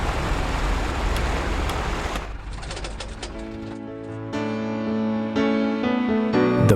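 Piper Cub light aircraft engine shutting down in a flight simulator, the dense rumble cutting off after about two seconds, leaving quieter tonal ambient sounds and chimes, no talk.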